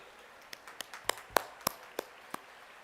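A handful of scattered, isolated claps from a school sports-meet audience, honoring the principal, ring out sparsely and fairly faintly over a quiet hall, about nine sharp hand strikes spread unevenly with no continuous applause.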